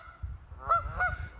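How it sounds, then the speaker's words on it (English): A Canada goose gives two loud, close nasal honks in quick succession over low background rumble. "These birds are easily recognized with their black heads, white markings, and distincting honk."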